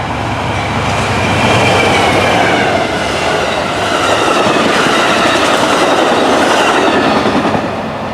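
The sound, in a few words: Amtrak Texas Eagle passenger train led by BNSF locomotive passing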